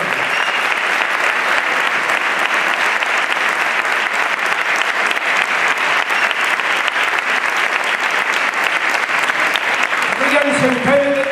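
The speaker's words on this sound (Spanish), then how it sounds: "pido un fuerte aplauso de todos ustedes" Sustained audience applause at an anniversary tribute event for a music association in Utrera, a dense, steady wall of clapping from a large crowd lasting the whole stretch, with a voice emerging at the very end.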